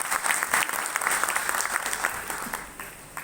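Steady audience applause at a business success-story event for a Modicare director, a dense clatter of many hands sustained evenly throughout with no pauses.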